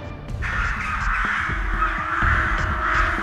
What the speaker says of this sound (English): Look, the crows over the house.